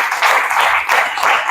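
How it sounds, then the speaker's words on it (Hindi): An audience claps for the host at a gathering, a loud, dense burst of hand claps that rises and falls in waves over a couple of seconds with no voices on top. "सर हमारे होस्ट और सर के लिए बहुत जबरदस्त ताली बजा दीजिए।"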